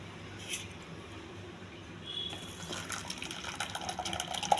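Water poured into grape juice, a soft steady liquid fill that grows louder and fuller toward the end, heard close with no talk.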